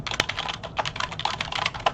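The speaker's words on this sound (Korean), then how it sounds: "이런 식으로 그냥 타이핑해 주시면 됩니다" Rapid typing on a computer keyboard while filling in an Excel spreadsheet exam task, with a quick run of crisp, close key clicks of uneven loudness and no talking.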